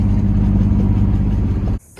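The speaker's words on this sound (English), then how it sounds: "The car runs, it drives." A BMW engine with a misfire and a suspected vacuum leak runs loud and close, a rough steady drone with uneven pulsing, then cuts off abruptly near the end.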